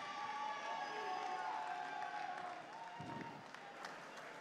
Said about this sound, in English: the New York crowd cheering hard for Turan the Tornado Hasanov tonight